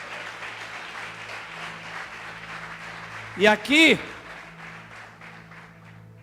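A church congregation applauds in a steady wash of clapping while a preacher's voice briefly calls out over it.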